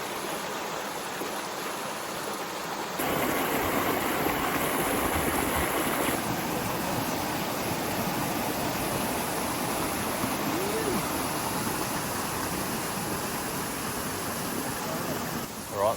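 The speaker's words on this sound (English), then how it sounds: "the waterfall is down on that corner and drops off there" A waterfall in Gondwana rainforest rushes as a dense, steady roar of falling water that swells louder a few seconds in and holds without a break.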